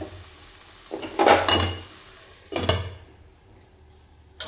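A metal lid is set onto a cooking pot of pea leaf thoran, giving two distinct clattering clinks a little over a second apart, fairly close and otherwise quiet.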